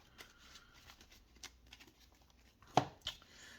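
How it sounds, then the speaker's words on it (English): Trading cards are quickly shuffled during a local card game tournament, giving soft, scattered riffles and flicks with one sharper snap near the end, faint and close. "Let me give a quick little shuffle here."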